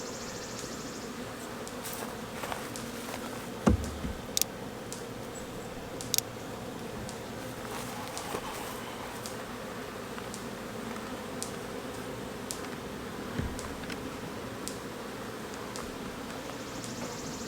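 Honeybees humming steadily at an open ten-frame hive box full of capped honey, a soft continuous buzz with a few sharper close passes and light rustles of frames.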